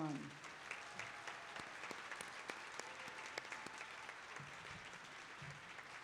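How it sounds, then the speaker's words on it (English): An audience at a 2021 college commencement applauds the graduating class, a continuous, moderately distant wash of clapping with a few sharper individual claps and no speech over it. "Let's have one more round of applause for the graduating class of 2021."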